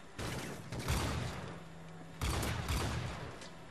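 A C4 charge goes off in Modern Warfare 3 on the Wii, giving two broad, loud bursts of blast noise about a second and a half apart amid continuous game-combat clatter.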